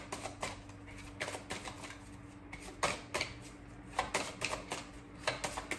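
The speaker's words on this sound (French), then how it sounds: "laisser tomber une carte." Tarot cards are handled and dropped from a deck, a quiet series of crisp, uneven clicks and flicks close by with no talking.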